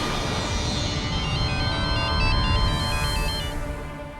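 A phone ringtone plays continuously for about four seconds, a steady electronic melody with repeating tonal patterns, fairly loud and alone with no talking.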